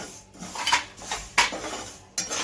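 Nigella and fenugreek seeds being dry-roasted in a pan for bhokar pickle, heard as a few sharp metallic scrapes and clinks of utensil against pan in quick irregular bursts, close and moderately loud with no talking.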